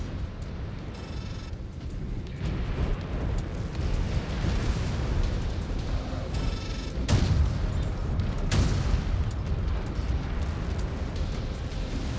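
An incoming missile explodes in the mech combat game Mechwarrior 5 Clans, with a loud, deep, rumbling blast and a second heavy boom partway through over continuous battle noise.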